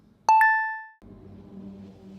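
A Ring video doorbell motion alert chimes twice, two bright overlapping tones that ring out and fade over about half a second, followed by quiet background noise.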